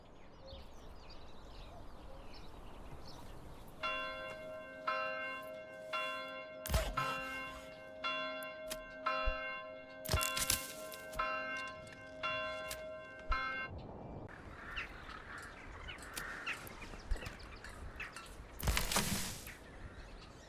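A bell rings in a medieval village in the city-builder game Manor Lords, striking about a dozen evenly spaced, sustained tones over ambient birdsong and a faint outdoor background.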